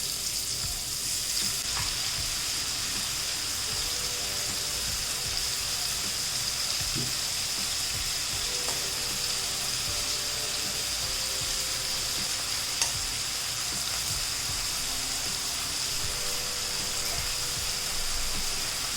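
Prawns fry in a pan with a steady, quiet sizzle and hiss that runs throughout, joined by occasional soft stirring clicks and no voices.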